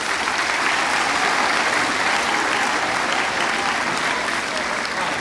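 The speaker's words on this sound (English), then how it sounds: "So y'all give yourself a round of applause." Sustained applause from a school audience at a safe school award ceremony, a dense, even wash of clapping held at steady volume throughout, with no voices rising above it.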